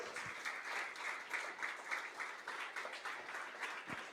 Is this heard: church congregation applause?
yes